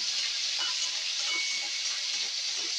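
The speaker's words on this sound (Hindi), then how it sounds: "अब हम अपनी मूंगफली को जो हमने इसको अंकुरित कर रखा है उसे कुछ सेकंड के लिए फ्राई कर लेंगे।" Sprouted peanuts frying in hot oil in a pan, a dense, even hiss of sizzling that runs steadily throughout, close and with no speech.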